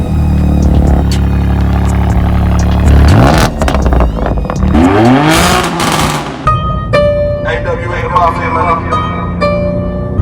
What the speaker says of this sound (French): coup d'échappement en ligne directe. C'est-à-dire pas de catalyseur